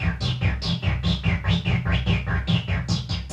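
Korg MS-20 analog synthesizer playing a rhythmic patch driven by an analog sequencer while the envelope sustain level is adjusted, with repeated pulsing notes and sweeping bright filter swells at a steady fast rhythm, loud and close.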